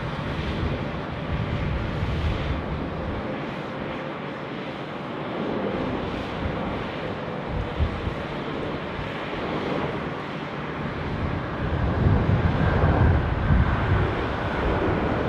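An Emirates Boeing 777 freighter landing on runway 16 right at Sydney Airport, a sustained low rumble with wind buffeting that swells louder near the end, with no voices.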